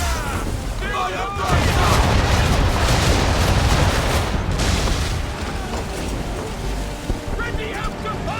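Cannon fire from a ship's guns during a naval battle in Assassin's Creed III, loud rumbling blasts over rushing sea wind and surf, with shouted orders and crew voices mixed into the din.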